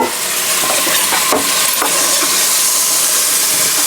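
Vegetables, including carrots and broccoli, saute in a pan for chicken soup, giving a steady close sizzle with a few soft stirring scrapes and no voices.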